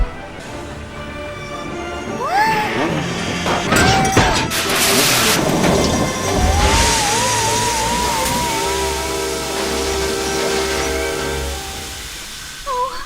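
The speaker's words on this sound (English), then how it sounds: "I broke the engine wash." Rosie, a small tank engine from Thomas & Friends, crashes through the engine wash, a loud rumbling impact with clattering and rushing noise, followed by a long sustained hiss and hum, with voices exclaiming over the start.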